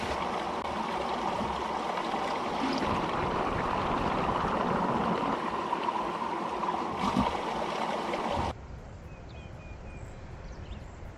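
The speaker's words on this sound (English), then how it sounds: "I'm going to get some water out of this spring that feeds this trout stream." Spring water flows into a trout stream with a steady close rushing sound that drops abruptly to a softer trickle near the end, no voices.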